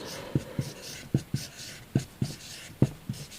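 A pen sketches boxes on paper in short scratchy strokes, about a dozen quick taps and scrapes in an uneven rhythm, close and fairly quiet.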